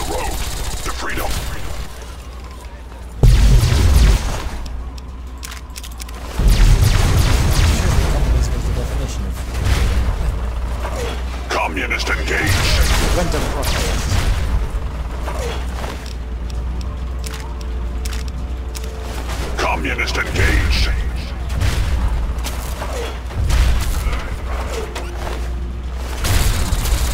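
Heavy booms and gunfire in Fallout 3: loud thuds land in bursts, with rattling fire and mechanical clatter layered through a busy, continuous battle soundscape. Game voices are heard over parts of it.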